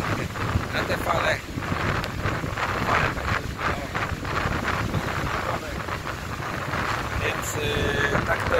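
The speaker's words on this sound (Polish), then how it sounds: "Wiatry wieją okropne." Strong wind on the coast at Hoek van Holland buffets the microphone in a steady, roaring rush, with gusts swelling and dropping throughout and faint surf beneath.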